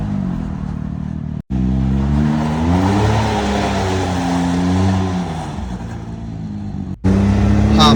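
A Can-Am off-road buggy engine runs loud and close, rising in pitch as the vehicle pulls away, with a brief cut near the start and another toward the end before the engine roars again.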